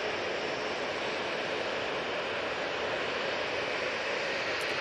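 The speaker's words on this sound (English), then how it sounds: "British Airways shuttle now lining up" A British Airways Airbus A320neo shuttle lines up on the runway at Manchester Airport, its jet engines making a constant, loud broadband roar with no breaks and no voices over it.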